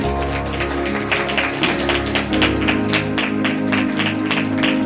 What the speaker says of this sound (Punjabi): ਇੱਕ ਵਾਰੀ ਜ਼ੋਰਦਾਰ ਤਾਲੀਆਂ ਮਾਰ ਦਿਓ